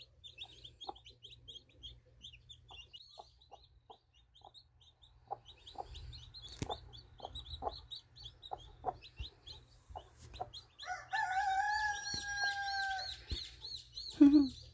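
A Cream Legbar mother hen clucks in steady, soft pulses while chicks peep high and constantly nearby, rising to a louder flurry of calls near the end.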